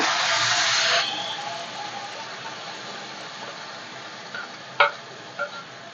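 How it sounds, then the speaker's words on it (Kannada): Yogurt mixed with ginger garlic paste fries in a pan for an okra gravy, giving a bright hiss that fades to a soft steady sizzle, with a few light spoon clinks near the end. "ಮೊಸರು ಚೆನ್ನಾಗಿ ಫ್ರೈ ಆಗಲಿ"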